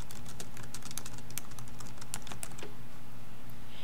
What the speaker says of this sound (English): So I could just start typing in whatever information that I needed to type in for my project.